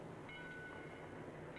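A train stands or rolls at a station in a 1940s film scene, giving a low, steady rumble with faint tonal hums and hisses, heard at a distance with no speech.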